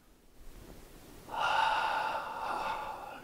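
A single deep, drawn-out inhale during a standing qigong breathing exercise, rising as the arms lift. It is a steady, airy breath that begins after a quiet pause and stays close and fairly soft, with no talking.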